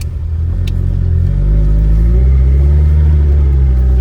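A 1968 Fiat Spider 124 drifts in snow. Its engine growls loud and close with a deep, rumbling note, and the revs climb and stay high through the second half with no voices.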